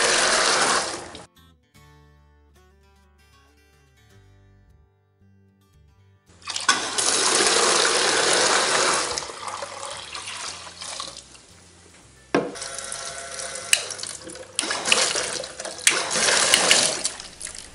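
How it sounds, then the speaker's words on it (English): Automatic bilge pump kicking on in a test container, with bursts of rushing, splashing discharge water separated by quieter stretches of low motor hum and drips. "The pump should activate and discharge water."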